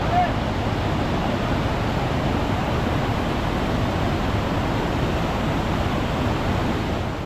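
Large mountain waterfall on a hill road in Uttarakhand, a loud steady roar of falling water that holds constant and close throughout, with no clear talk over it.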